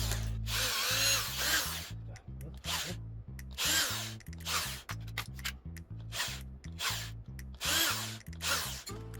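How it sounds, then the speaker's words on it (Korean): A power drill bores holes in a fencing mask overlay, sounding as a series of close, loud, short whirring bursts that start and stop repeatedly, with brief quiet gaps between them. "구멍을 하나 뚫어주시고 이쯤에도 하나 뚫어주면 됩니다."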